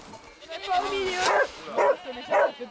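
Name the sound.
dog barking on a goat farm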